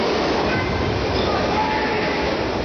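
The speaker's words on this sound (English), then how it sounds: "just as the subway was coming into the station" A subway train rolls into a station with a loud, continuous roar and rumble that fills the space, dense and unbroken throughout.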